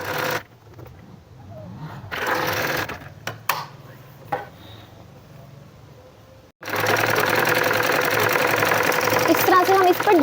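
A sewing machine stitches a velvet hoodie, whirring in bursts with pauses and handling clicks, then settling into a long, steady, loud run of stitching near the end.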